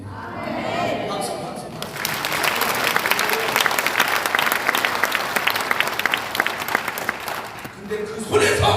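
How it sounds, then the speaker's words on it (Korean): A church congregation breaks into sustained applause during a sermon, many hands clapping steadily for several seconds, with voices mixed in at the start and end. "박수."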